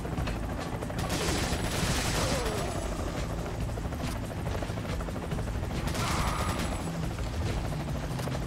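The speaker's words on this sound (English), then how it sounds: "people trying to shoot me, but they can't do it because I'm at the highest point on the stage" Enemies firing guns in Resident Evil 4's Mercenaries mode, a steady clatter of rapid shots and bursts layered over loud, dense game noise throughout.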